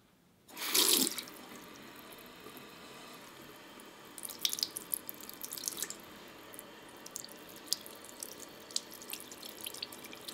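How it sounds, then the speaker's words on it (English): Water from a tap splashes into a sink, starting with a sudden strong gush that eases into an irregular trickle and patter of drips and splashes, close and quiet, without any speech. "So let's turn on our water and get it going."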